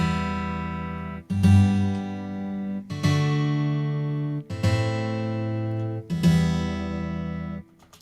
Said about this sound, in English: if you do it with simultaneous notes, you really get a harpsichord sound like this